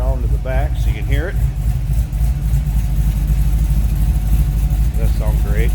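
A 1948 Chevrolet Fleetmaster coupe street rod idles with a steady, deep low rumble from behind the car, a continuous near drone while someone talks over it in short bursts.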